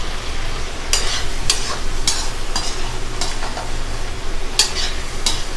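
Egg 65 frying over medium heat in a pan, a loud steady sizzle broken by regular metallic scrapes and clinks of a spatula stirring, close up and without talk.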